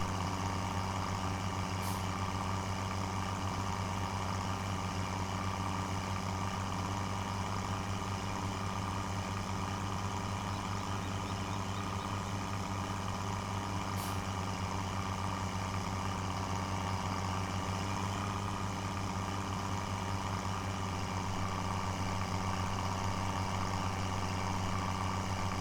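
A tractor engine in Farming Simulator 17 hums at a steady idle, a constant loud drone with two faint clicks and no talking.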